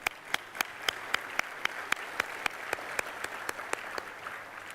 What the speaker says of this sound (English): Let us start with a thunderous round of applause,